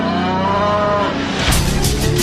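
A cow lets out a long, loud moo close by, the low drawn-out call rising and roughening toward its end.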